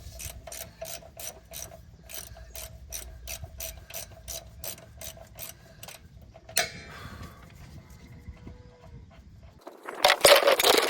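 A ratchet with a 22 millimeter socket turning the sump plug on a TYM T1104 tractor, rapid even clicks at close range, followed by a clatter, quiet, and a sudden loud rush of noise.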